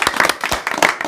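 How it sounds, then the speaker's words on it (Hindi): Crowd at an outdoor village chaupal meeting in Kudhni, Bihar, breaks into brisk, close applause, a dense patter of many hands clapping through the whole short burst, with faint voices mixed in. "एक बार और ताली मारिए इनके लिए।"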